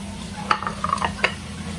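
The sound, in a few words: frying onions, spices and pumpkin in a pan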